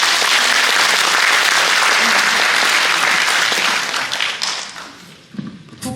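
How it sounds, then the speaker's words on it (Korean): Dense, sustained applause from an audience at a Korean National Assembly policy forum on disability residential facilities greets introduced guests, loud and even before thinning out and fading near the end. "뜨거운 박수로 환영해 주시기 바랍니다."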